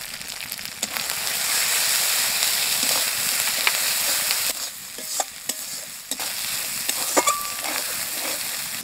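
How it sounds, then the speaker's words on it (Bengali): Ground spices with salt and turmeric fry and are stirred in a pan for a stingray fish curry with Gangtok red chillies, giving a loud, continuous sizzle broken by scraping strokes and occasional clinks. "মশলা কষানো হয়ে গেছে"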